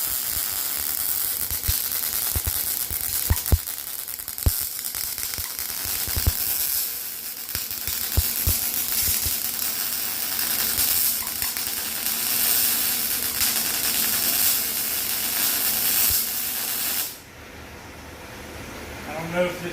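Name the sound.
MIG welding square steel tubing with .030 wire at 19 volts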